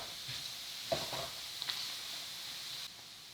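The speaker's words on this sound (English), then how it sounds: "once you add your onions and peppers, you just want to stir everything around to evenly incorporate" Chorizo, onions and peppers sizzle in oil in a pan while being stirred, a steady close frying hiss with a few scraping stir strokes and light clinks.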